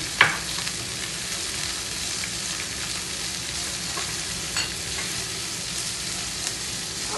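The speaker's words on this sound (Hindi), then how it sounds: "अब प्याज थोड़ा सा भुन गया" Finely chopped onions frying in a pan make a steady, dense sizzle close up, with a few light clicks of stirring and no voices.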